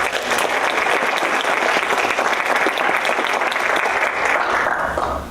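Steady, dense applause from a conference audience fills the room continuously, loud and even throughout with no talking over it.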